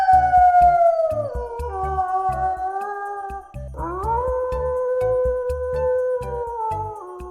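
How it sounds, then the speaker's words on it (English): A wolf howls in long, sustained, sliding tones, one drawn-out call gliding downward and a second rising and holding steady, loud and clear over a steady rhythmic beat of backing music. "This is a wolf."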